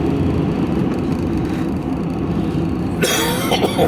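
A steady engine drone fills the background, then a short dry cough breaks through near the end.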